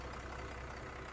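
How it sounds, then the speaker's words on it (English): A 2008 Commander 30 boat's engine runs steadily inside its compartment, a continuous low, even mechanical hum that stays quiet and unbroken with no voices over it. "Here we got the motor running here."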